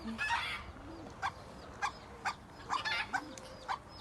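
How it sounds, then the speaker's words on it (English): Several chickens cluck in short, repeated bursts at an irregular pace, fairly close, with soft background noise between calls. "Chickens."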